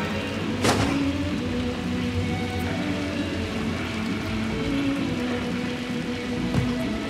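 Steady, continuous rain from the Little Nightmares 2 video game, a dense hiss with a soft low rumble underneath and no voices.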